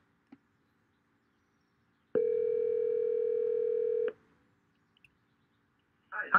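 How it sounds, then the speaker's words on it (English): Steady single tone on a forwarded test phone call, holding for about two seconds alone after a faint click, then cutting off before a brief burst of sound at the end. "And so now it's dialing the number that we've directed to do call forwarding."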